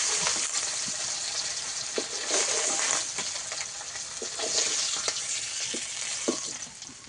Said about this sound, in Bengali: সব মাছগুলো আমি একইভাবে ভেজে নিয়েছি